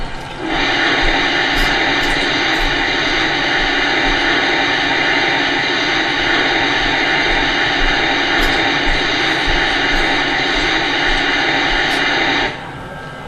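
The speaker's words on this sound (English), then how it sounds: "here's a view of the cylinder effect from the front of the engine here" Steady, loud hiss with a constant mechanical hum from the cylinder steam effect of a Lionel Erie 2-10-4 Texas model steam locomotive runs unbroken for about twelve seconds, then cuts off abruptly near the end.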